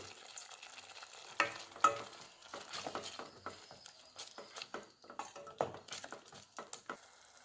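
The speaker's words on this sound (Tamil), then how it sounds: "இதை நல்லா சுருள வதக்கணும், பச்சை வாசனை போக" Masala for a mushroom gravy is stirred and sautéed in a pan, with a soft continuous sizzle broken by frequent scraping and clinking strokes of a spoon against the pan, fairly faint and close, with no talking.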